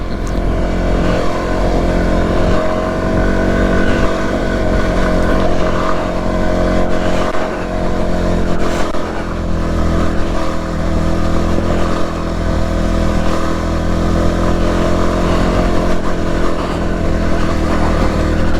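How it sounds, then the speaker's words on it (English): A vehicle engine shifts into second gear and accelerates on a road with light snow, its steady, loud drone continuous and close throughout with no voices. "Second gear, here we go."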